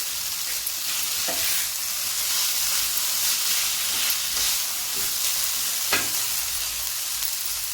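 Potatoes for potato kharda sizzle and hiss as they are stir-fried in a pan. The frying is loud and continuous, with occasional scrapes and clinks of the spatula stirring and no talking.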